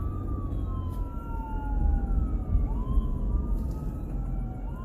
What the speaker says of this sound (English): Ambulance just went by me and it had the number 22 on it.